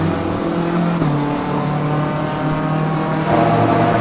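A race car in Assetto Corsa Competizione accelerating at Spa-Francorchamps: a loud, close engine whose pitch climbs steadily through the gears, with brief shift dips and a rise in intensity near the end, and no speech.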